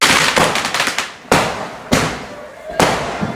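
Neighbours' fireworks go off outside a house at night, heard from the back door: several sharp bangs with crackling bursts between them, fairly close and loud.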